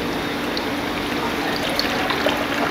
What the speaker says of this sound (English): open the tap to get a steady flow of running water.